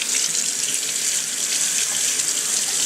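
Tap water runs into a sink while a fresh artichoke is washed, a loud, close, constant hiss of water pouring with no speech over it.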